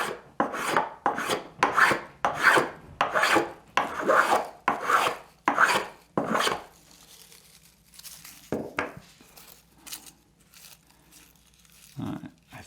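A Jorgensen 102 low-angle block plane shaves thin curls off wood in a quick run of about seven rasping strokes, then two or three isolated, fainter passes in near quiet.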